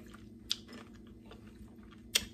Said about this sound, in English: But okay, I have to have another one.